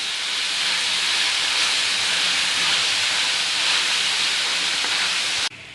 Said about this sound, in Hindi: अच्छे से हम इसको भून लेंगे, अदरक लहसुन को और प्याज को।